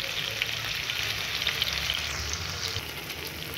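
Cherry tomatoes cook in a pan over a low-medium flame, giving a steady, close sizzle and fry with soft bubbling crackle throughout and no talking.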